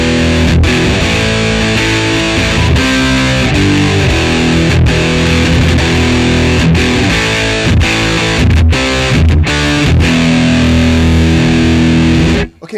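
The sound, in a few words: electric guitar through overdrive pedal distortion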